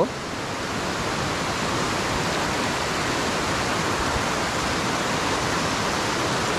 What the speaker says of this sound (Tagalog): Biruin mo naman ang lakas ng agos ng tubig nila dito.